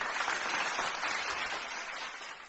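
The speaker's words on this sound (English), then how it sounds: "So let's give a round of applause to that." Canned applause sound effect played during an insurance adjuster check-up show, a dense continuous burst of crowd clapping that stays loud and even, then tapers slightly at the end.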